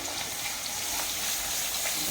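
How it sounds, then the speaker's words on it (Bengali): Potatoes dropped into hot oil with onions frying in a pan, giving a steady, close, broadband sizzle that holds an even level throughout with no talk. "পেঁয়াজটা একটু ভাজা হলে আমি আলু ছেড়ে দেবো তেলটার মধ্যে।"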